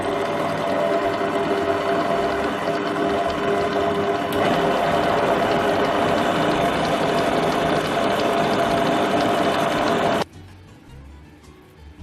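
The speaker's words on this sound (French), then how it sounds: "Et maintenant, je vais la mettre à la machine à pétrir." Kneading machine mixing brioche dough with dried mint and feta, a loud steady mechanical whir with rhythmic gear clatter that runs for about ten seconds and then stops abruptly.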